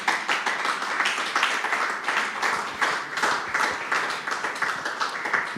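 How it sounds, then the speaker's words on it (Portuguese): A church congregation claps together during a worship service, brisk continuous applause close and loud for several seconds, with no talking over it. "Damos um aplauso para Jesus pela sua palavra."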